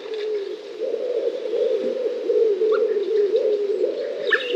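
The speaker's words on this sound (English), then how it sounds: "there's somebody else they don't like, the wood pigeon" A wood pigeon coos close by in a soft, hollow, continuous rhythm, with faint chirps from other birds behind it.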